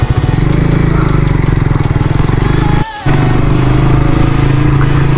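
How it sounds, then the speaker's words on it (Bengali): A Suzuki GSX-R150 motorcycle with a dual-barrel exhaust runs at a steady, loud, close idle, broken by one brief dip near the middle, with a voice faintly present under the engine. "ডুয়েল বেলের এক্সজস্ট ম্যান"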